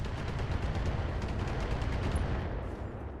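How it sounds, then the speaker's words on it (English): A missile barrage and weapons fire in the Battletech video game, a dense continuous rumble of explosions and impacts, loud and steady throughout with no talk. "And here comes another barrage."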